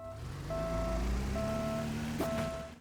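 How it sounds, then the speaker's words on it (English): Steady electronic reversing beeps from a vehicle in the game Scrap Mechanic pulse at an even rhythm over a low engine rumble, clear and close, with a brief thump near the end. "When you back up,"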